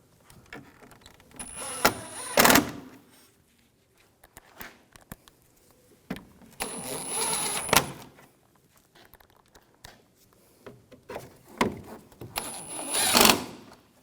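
Screws being driven snug on a headlight assembly of a 2011-2018 Volkswagen Jetta, three short bursts of close ratcheting and whirring tool noise separated by quiet pauses.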